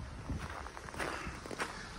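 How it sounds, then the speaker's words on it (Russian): Footsteps of someone walking outdoors in snowy weather, a steady series of soft, fairly close steps running through the whole stretch with no talking. "Мои шаги, наверное, также отдаются"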